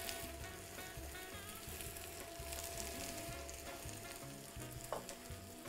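Cabbage and apple fry together in a pan for Chinese-style vegetable noodles, a dense steady sizzle with stirring scrapes, fairly quiet and without voices.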